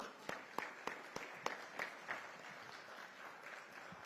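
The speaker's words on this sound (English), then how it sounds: "Ladies and gentlemen, a big round of applause" Applause from the audience at a business awards ceremony, quiet and distant, with several distinct sharp claps standing out over a soft crowd patter.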